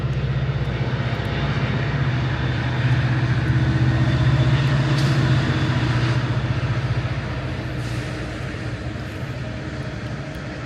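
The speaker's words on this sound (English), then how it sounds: "Oh, you can hear the GO train coming." A heavy, steady rumble of a passing GO commuter train in Toronto, loud and close with a low droning hum, easing off slightly toward the end.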